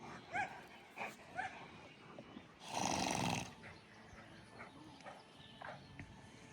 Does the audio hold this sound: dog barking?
yes